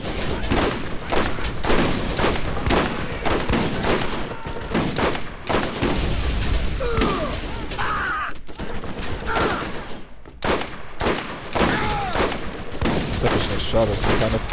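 Dense, rapid bursts of turret gunfire in Borderlands pound almost continuously, loud and close, with a player talking over the shooting.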